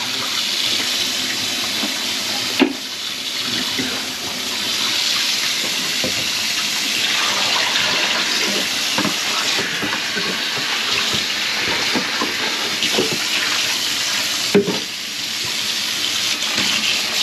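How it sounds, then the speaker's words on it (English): Hot water runs steadily down a cleared kitchen sink drain, a continuous broadband rush of tap flow with a few brief clunks, close and fairly loud throughout with no talk over it. "Once the sink's open and the hot water starts to run and then washes it all down"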